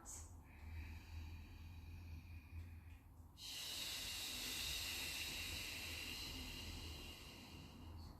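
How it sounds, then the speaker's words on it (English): Snake breath from yoga for runners: a slow inhale through the nose, then a long steady hiss pushed out through the teeth, faint and close, with no talking. "breathing in through the nose, out through your teeth"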